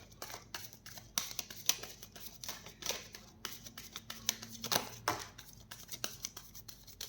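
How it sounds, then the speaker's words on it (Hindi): A deck of tarot-style cards is shuffled by hand in a quiet room, giving a steady run of soft riffling clicks and papery flutters close to the listener. "मैं एक ही शफल करूँगी"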